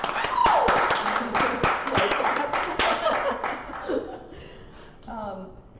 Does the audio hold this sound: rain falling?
no